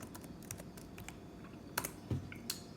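Fingers tap out a document title on a computer keyboard, a quiet, uneven run of individual key clicks with a few sharper presses, close and alone without talk.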